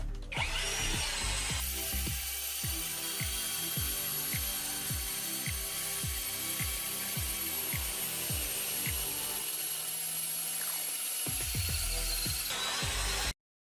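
A cordless drill whirs steadily while driving three 3-inch screws, with repeated rhythmic ratcheting pulses and a brief pause near the end before resuming, loud and close.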